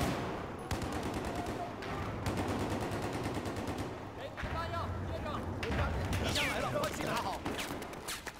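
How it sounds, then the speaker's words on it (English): Battlefield 4 gunfire rattles in rapid automatic bursts, loud and close, with short breaks between volleys, while players talk over it. "Where are we getting shot from?"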